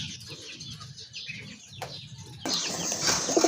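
A pair of pure white kagoji pigeons flap their wings close by, a sudden rustling burst in the second half, over low chatter and clucks from other birds in the background.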